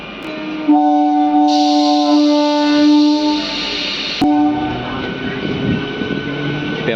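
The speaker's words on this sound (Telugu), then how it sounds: "నంబర్తి స్టేషన్ నుంచి మన ట్రైన్ బయలుదేరింది" A MEMU train's horn blares for several seconds, then gives way to the rumble and clatter of the train pulling out of Pembarthi station.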